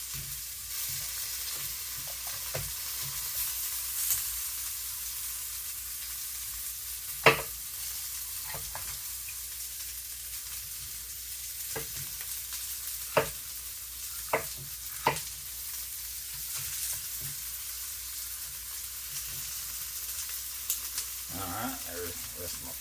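Onion and ham fry in a skillet with a steady soft sizzle throughout, punctuated by occasional sharp clicks and scrapes of stirring, quiet and close.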